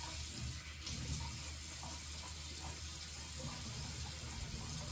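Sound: splashing water on face at sink

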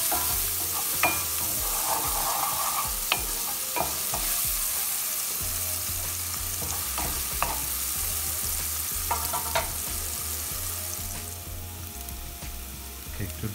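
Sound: onions sautéing in oil in a pan

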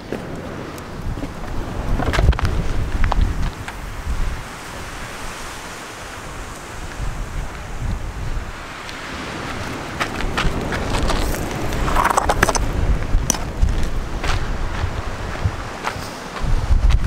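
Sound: wind

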